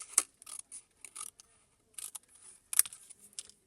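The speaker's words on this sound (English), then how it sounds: "I'm just going to cut it up here" Scissors snipping through a sheet of punched grid paper for a butterfly wreath template, a string of short, crisp cuts coming in uneven bursts, close and fairly quiet.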